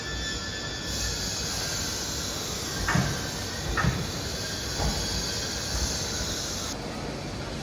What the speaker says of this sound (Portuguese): Esse trem que está chegando agora, esse verdinho, é o mais tradicional